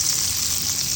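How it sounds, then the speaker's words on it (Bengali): Butter sizzles steadily in a pan just used for frying chicken for butter chicken, a dense, even crackle held at one level for the whole second with no voices. "এখন এর মধ্যে আমরা বাটার দিব"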